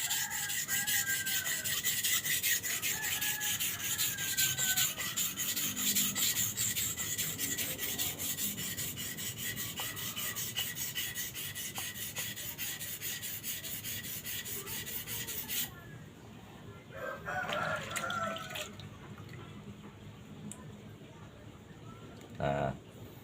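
A Bohler K110 steel machete being sharpened with a file, with a dense rhythmic rasping that runs close and steady for most of the stretch, then stops and gives way to quieter handling noises and faint background voices.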